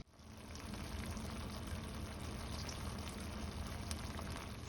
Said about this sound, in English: So these are the shrimp on medium heat